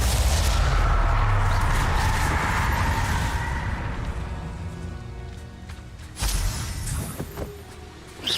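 Spell blasts crash through a Hogwarts Legacy combat fight, a dense run of booming impacts and crackling bursts that fade a little before a sharp fresh blast near the end.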